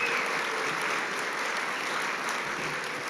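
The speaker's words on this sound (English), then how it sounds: "So how about a big round of applause for Tony?" Steady, dense audience applause at a guide and service dog graduation ceremony, continuous and fairly loud throughout with no pauses.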